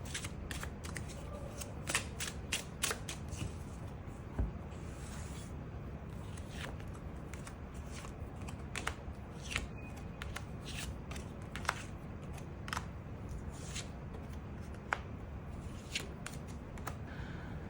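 Tarot cards are shuffled and drawn in a string of crisp, close riffling snaps and soft slides, irregular and quick, over quiet room tone.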